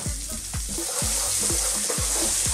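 Onions and garlic frying in olive oil with oregano, a loud steady sizzle broken by regular scraping stirs about every half second, close up with no talk.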